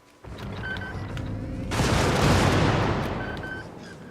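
A Stalwart machine gun in a video game fires a dense, rapid burst of gunfire that swells into a loud, sustained roar midway and then tapers off, with faint tonal game sounds around it and no talking.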